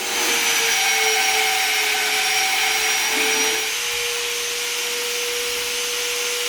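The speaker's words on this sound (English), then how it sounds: "This is a lot of drilling." A steady high-pitched whine of a drill boring into armour plate for a jet car, continuous for several seconds and dropping slightly in pitch partway through.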